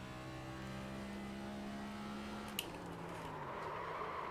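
A NASCAR Next Gen race car in the sim-racing game iRacing drives on a road course, its engine holding a steady tone that drops in pitch with one brief click partway through, with no voices.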